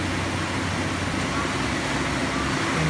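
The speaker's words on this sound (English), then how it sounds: "Machine's running 1200 RPM." A 2005 Daewoo Puma 240LC CNC lathe spinning at 1200 RPM, heard as a steady broadband whir and hum that holds constant and close for the whole stretch, with no talk.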